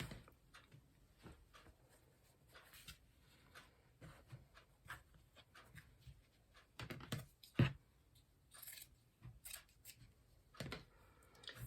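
Scissors snip scrap fabric to size in quiet, irregular cuts and rustles close by, with a few sharper clicks among them.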